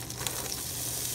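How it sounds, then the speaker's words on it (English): Onions frying in butter in a cast iron skillet, a steady close sizzle that holds evenly across the short moment with no voices. "I've got butter in a cast iron skillet,"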